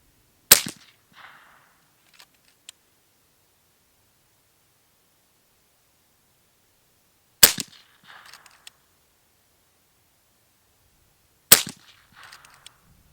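FX DRS Tactical Sniper .25 calibre air rifle firing three sharp, loud shots spaced several seconds apart, each with a brief mechanical clatter and rustle after it, with silence between.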